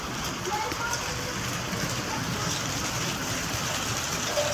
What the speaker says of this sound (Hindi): कितनी खतरनाक बारिश है